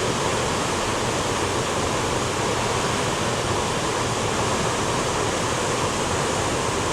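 Cumberland Falls in Kentucky thunders as the waterfall's water crashes onto the rocks below, a dense, unbroken broadband roar that stays steady and loud throughout with no voices.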